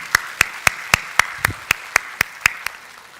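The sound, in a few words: church congregation applauding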